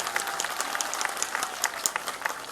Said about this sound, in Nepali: यसमा त अलि जोडले ताली लाग्नुपर्ने होइन र भनेको